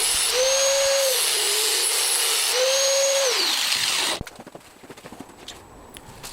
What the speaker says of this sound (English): Just sharpening the blade and then reinstalling that.